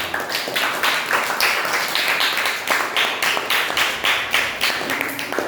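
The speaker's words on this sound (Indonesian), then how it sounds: "Tepuk tangan untuk Putra dan Dea." A class claps for two students, Putra and Dea, in a patterned rhythm of sharp group claps repeating in regular bursts, fairly close and lively throughout, with no voices on top.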